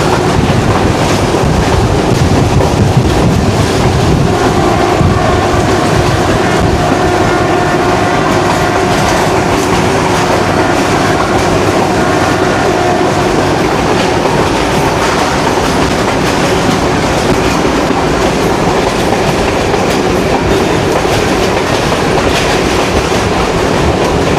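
The Kohat Express runs from Rawalpindi to Kohat on a branch line, heard from on board as a loud, continuous roar with steady clickety-clack of wheels and wind buffeting the microphone.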